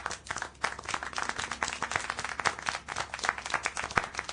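A crowd applauds in Syberia: The World Before, with dense, continuous clapping at moderate loudness lasting the whole stretch and no talk over it.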